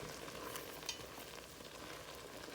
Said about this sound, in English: So just put them on a low simmer and just let them be able to sit there and cook and release all their flavors.